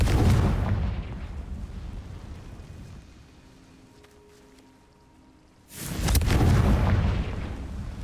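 A fiery Confringo spell from Hogwarts Legacy bursts in a loud roaring blast, fades to a quiet lull with faint tones, then a second rushing explosion erupts near the end.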